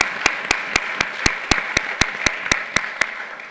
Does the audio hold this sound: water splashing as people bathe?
no